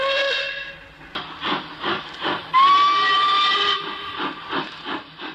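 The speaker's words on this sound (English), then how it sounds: "behind that, you'll see sticking up is the whistle, or the Hooter, the Caley Hooter, as it's often known." The mellow steam whistle of Caledonian Railway locomotive No 123, known as the Caley Hooter, sounding loud and close in sustained blasts broken by bursts of hissing steam.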